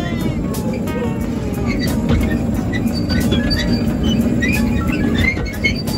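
A small pumpkin patch ride train rolls along steadily with continuous rumbling, clacking wheels and occasional metallic squeals, loud and close throughout.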